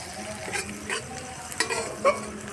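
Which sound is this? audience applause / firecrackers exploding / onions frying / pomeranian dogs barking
onions frying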